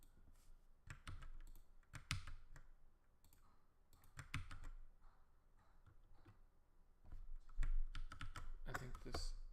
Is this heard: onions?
no